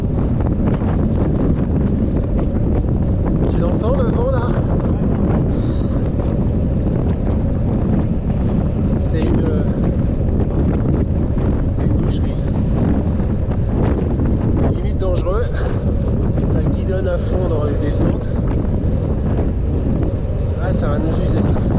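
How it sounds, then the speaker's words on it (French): Wind roars continuously into the microphone while cycling on a hilly route in the Cotentin, a loud, unbroken low rush that dominates throughout, with a voice speaking faintly beneath it. "Tu l'entends le vent là?"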